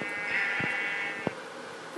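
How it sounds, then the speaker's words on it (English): A sheep bleats in the video game Minecraft, a loud, wavering bleat in the foreground with a few soft taps and clicks around it. "Ooh, there's a sheep."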